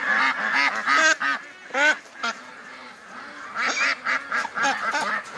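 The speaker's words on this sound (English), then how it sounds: "They got themselves trapped in here." Ducks trapped inside a barn give repeated harsh quacks in irregular bursts, some overlapping, close and fairly loud with short pauses between calls.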